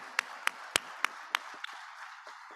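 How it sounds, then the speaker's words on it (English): A few people clapping at a celebration gala dinner, about six sharp, separate handclaps at an even pace, fairly quiet, then fading into softer scattered taps. "So round of applause for"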